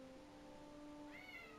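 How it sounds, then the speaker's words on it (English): A house cat meows at the door, a single drawn-out, rising meow that is faint and distant, with steady room noise and no talking. "Yeah, that's my cat,"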